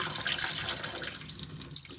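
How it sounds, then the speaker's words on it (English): Starchy rinse water from sushi rice pours and splashes out of a bowl into a sink, a steady close rushing stream with no talk over it. "So I'm gonna throw that water out again."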